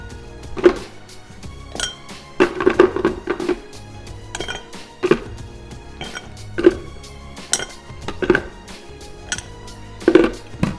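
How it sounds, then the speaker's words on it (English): A cocktail stirred with ice in a glass, giving a steady series of bright clinks and rattles repeating every second or so, close and clear with no talking. "We'll want to mix this with ice."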